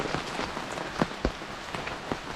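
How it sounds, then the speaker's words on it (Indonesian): Steady rain pours down on a cool Sundanese countryside village, a broad continuous hiss with scattered sharper drops and taps standing out now and then, no voices. "Hujan turun dari pagi ya."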